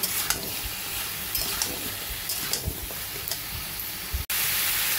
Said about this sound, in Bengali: সবজিটাকে একটু ভালো করে ভাজা ভাজা করে নেব